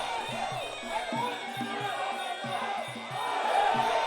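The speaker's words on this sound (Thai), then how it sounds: "กองเชียร์กัมพูชาวันนั้นก็โอ้โหเชียร์กันสนุกเลยครับ" A crowd of Cambodian fans cheers and chants rhythmically at a Muay Thai boxing match, steady massed voices with repeated drum-like beats and a commentator talking over them.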